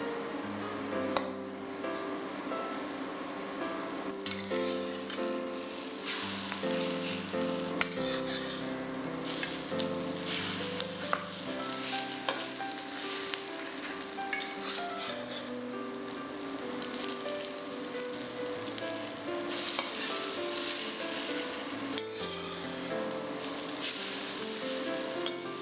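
Egg omelette quarters frying in a pan for egg foo young, a steady close sizzle running throughout with background music layered over it.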